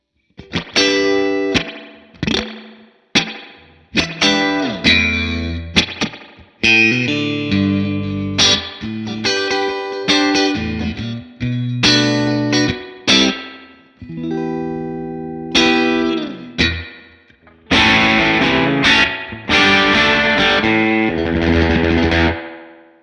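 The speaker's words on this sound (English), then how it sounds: "That's a really good spring reverb." Electric guitar through a Headrush Boing Verb spring reverb effect, picked in short phrases, each note ringing out and splashing into a springy, echoing tail; loud, with no voices.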